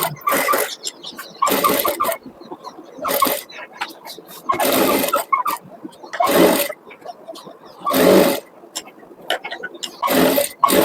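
A sewing machine stitches the lining and fabric of a blouse together, running in several separate bursts of steady mechanical whirring with short pauses between them, loud and close.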